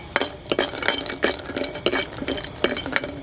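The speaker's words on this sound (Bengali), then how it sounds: "এবার কাজুগুলি ভেজে নেব একটুখানি হালকা ভাজা দেবো" Cashews lightly frying in a pan, with rhythmic stirring strokes and scraping clatter of a utensil against the pan every half second or so, close and fairly loud.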